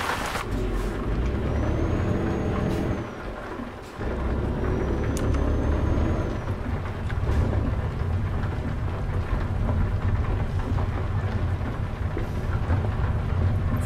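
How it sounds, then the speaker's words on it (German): Steady rain with rumbling thunder fills a truck cab in Euro Truck Simulator 2. Dense, constant rain noise runs over a low engine drone, with a brief dip partway through. "Wobei es immer noch regnet, ne?"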